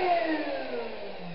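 A router fitted with a 45-degree chamfer bit rounds over wood edges, a loud high whine that drifts slightly downward in pitch as the bit cuts, close and steady with no talk.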